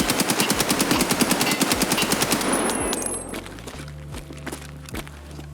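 Rapid bursts of AKM rifle fire in Escape From Tarkov, a dense fast automatic stream for about three seconds, then a few spaced single shots under a low humming background.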